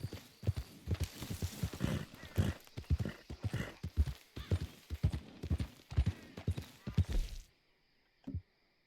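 Horse hooves clip-clopping in the video game Red Dead Redemption 2, a brisk, loud, rhythmic run of hoofbeats up close with a whinny mixed in, cutting off near the end and followed by one last thud.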